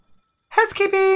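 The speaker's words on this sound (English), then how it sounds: "awoken to the sound of a phone ringing from within his room" A telephone rings inside a hotel room after a short quiet pause: a bright, electronic, tonal ring that starts abruptly and carries on steadily to the end.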